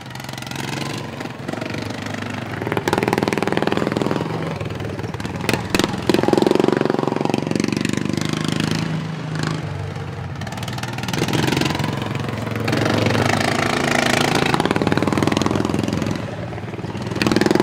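Racing lawn mowers in the GPK governed class, run through lawnmower transmissions, rev and drone at a dirt-track heat race, engines swelling and fading as they pass, with a voice faintly over the noise.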